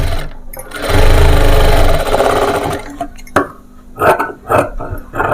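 An electric sewing machine stitches the lining of a baby frock in a continuous burst of fast, close whirring, then runs in shorter bursts while someone talks between them.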